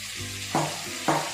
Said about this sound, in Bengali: ভেজিটেবলস গুলো দিয়ে 15 সেকেন্ড হাই ফ্লেমে কিন্তু রান্না করতে হবে। এই সময় আমরা চিকেনটাকেও অ্যাড করে দিচ্ছি